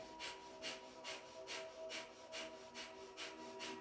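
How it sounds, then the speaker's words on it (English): Rapid, rhythmic breath of fire from kundalini yoga practice, sharp sniffing exhales pumping about twice per second, close and steady throughout, with a faint tonal hum underneath. "it's a light, rapid breath, almost like sniffing, but really squeeze the tummy on the exhale"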